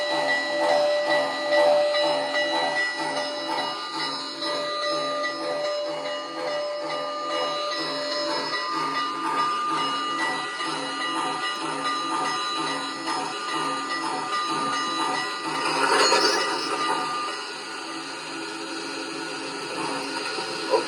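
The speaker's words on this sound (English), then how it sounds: "Here comes the train." MTH Proto-Sound 2 model of steam locomotive 4449 running, giving a steady hissing chuff with a faint whistle-like tone, continuous for about twenty seconds with a brief louder burst near the end.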